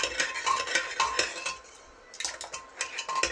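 A ladle stirs cooked dal in a metal pot, giving a run of close scraping and clinking strokes against the sides that pause briefly midway, then start again, with no talking.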